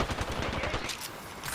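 Rapid bursts of automatic gunfire in the Apex Legends video game, dense and continuous, loud and close, with overlapping shots from a firefight and almost no talk.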